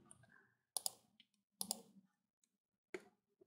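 Faint computer mouse clicks picking files one at a time to import into Filmora, with about four sharp, separate clicks spaced across a quiet background and no talk.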